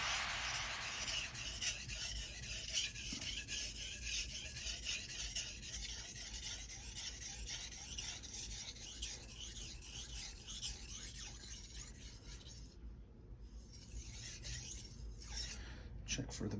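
A ZDP-189 core steel Bunka knife is stroked across a Suehiro 1000/6000 combo whetstone, making a continuous close-up wet rasping and scraping in steady back-and-forth passes, alone without talk.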